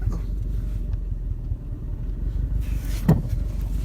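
A 2000 Toyota Tacoma crawling off-road in low-range first gear gives a steady, loud low rumble of engine and drivetrain throughout, with a brief knock or thump near the end.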